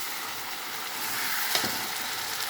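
Thick vegetable stalks and fish frying in oil while being stirred, a dense continuous sizzle with a brief scraping knock midway, close and steady with no speech.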